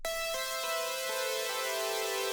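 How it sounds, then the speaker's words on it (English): A bright, buzzy supersaw synth chord sustains loudly, shifting through a few held notes with a thick, detuned saw-like shimmer and no voices. "First sound is Basic Super Saw."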